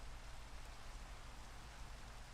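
Steady rain falling, a dense even hiss of drops on surfaces that holds at a constant level throughout, soft and unbroken with no voices.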